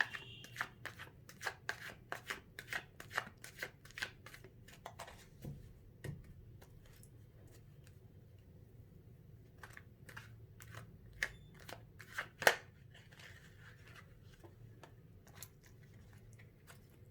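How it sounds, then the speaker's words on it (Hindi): Tarot cards shuffled by hand in a quiet room, a crisp series of quick riffling snaps in an uneven rhythm, close and clear, pausing midway before resuming. "पहले मैं अच्छे से कार्ड्स शफल करूँगी।"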